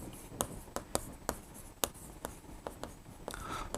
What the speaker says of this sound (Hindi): यहीं पर लिख देते हैं लाभ में हिस्सा।